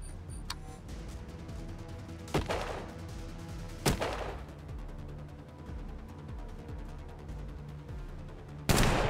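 A few sharp, isolated gunshots in the Colony Ship game, spaced seconds apart over a low continuous ambient hum, each crack loud and brief, the last one heaviest.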